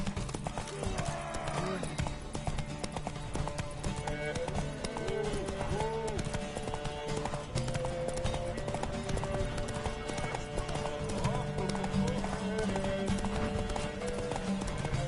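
Horse hooves clip-clopping at a steady gallop in The Witcher 3: Wild Hunt, running continuously under in-game music and voices.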